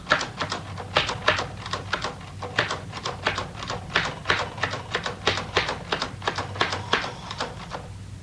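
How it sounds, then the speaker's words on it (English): A typewriter clatters in a BBC radio drama, with a fast, steady run of sharp keystrokes and small irregular pauses, close and clear with no speech over it. "perhaps your typing gets into my head"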